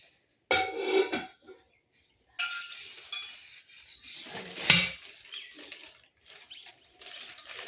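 A heavy metal kadai is lifted and handled, with scattered clanks, knocks and scrapes in short bursts separated by quiet gaps.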